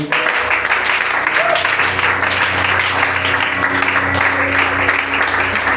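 A church youth seminar crowd applauds and cheers in a steady sustained wash, with a low musical hum underneath and indistinct voices mixed in.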